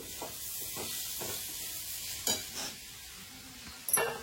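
Spices and turmeric sizzle softly in a hot pan, a low steady hiss with a few light stirring scrapes and a brief clatter near the end.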